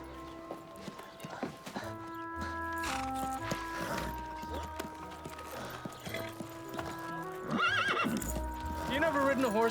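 A horse whinnies and snorts while its hooves clip-clop on hard ground, with voices talking over and between the animal sounds; a louder, shaky neigh rises near the end.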